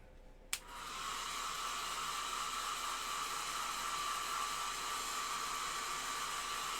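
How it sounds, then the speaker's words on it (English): A hair dryer clicks on and blows with a steady, close whooshing hiss that continues without pause, drying paint on a McFarlane Toys action figure. "let's hit it with the hairdryer"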